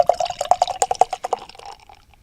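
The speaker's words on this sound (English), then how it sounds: "So I'm going to pour this out." IPA beer pours from a can into a glass close up, a rapid glugging and splashing stream that slows and fades into fizzing as the glass fills.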